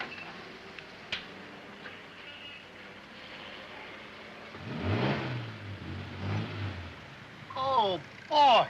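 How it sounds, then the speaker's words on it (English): A radio-drama sound effect of a car engine turning over and then revving in rising surges, mid-loud and up close, with a short rising whine at the end and faint room noise before it. "Listen to that engine purr."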